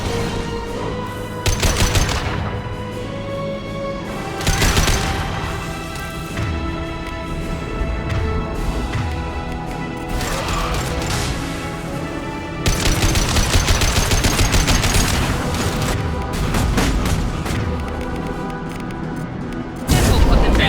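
Concussive shot and gunfire in the video game Mass Effect 2, loud repeated bursts of weapon fire and booming impacts over continuous game music and effects, spread across the whole stretch.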